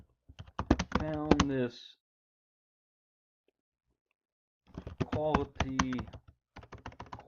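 Someone types on a computer keyboard in two bursts of quick, close clicks with a long silent gap between them, while a person speaks quietly over the typing.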